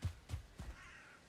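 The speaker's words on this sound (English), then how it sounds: "listening out for more crows" A crow caws in the video game Valheim, several short, faint harsh calls in quick succession with a brief pause before a final louder call, heard alone without talk.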